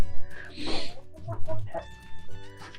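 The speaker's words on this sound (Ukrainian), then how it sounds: "є курочки, які хочуть нестися" Hens cluck in a coop that also holds ducks, giving several close, uneven clucks and a drawn-out squawk over low background noise.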